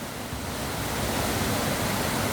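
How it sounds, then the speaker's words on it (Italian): Water rushes continuously from a waterfall and an abundant stream in a wooded spot, a loud, even broadband hiss with no pauses and no voices. "È bello anche ascoltare il fruscio dell'acqua."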